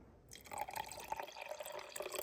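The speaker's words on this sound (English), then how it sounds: "and then adding hydrochloric acid" Hydrochloric acid poured into sand in a gold-recovery test, giving a soft, continuous trickle with small dripping splashes, fairly quiet and close, lasting a couple of seconds after a brief silent start.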